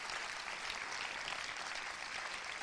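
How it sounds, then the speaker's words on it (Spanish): Audience applause at a Spanish socialist political event, steady dense clapping from a crowd filling the room, fairly distant and continuous without speech. "para el que pido también un buen aplauso"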